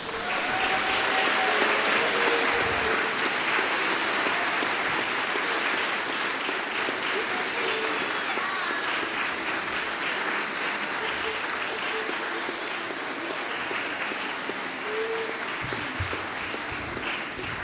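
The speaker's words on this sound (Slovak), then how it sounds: "Ja si myslím, že toto zaslúži ešte raz obrovský potlesk" A church audience at a nativity service in St. Martin's church gives sustained, dense applause lasting the whole stretch, steady and fairly loud, with a few voices faintly mixed in.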